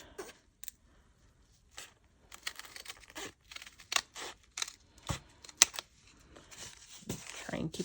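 Scissors snip and trim handmade craft pieces to an even length, giving irregular close clicks and crisp rustles, with quiet pauses and occasional talk in between.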